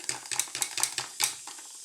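A fruit drink being mixed in a glass, with about six quick, rhythmic clinking and scraping strokes of a utensil close by. Each stroke is short and bright, with brief pauses between them, and no one speaks.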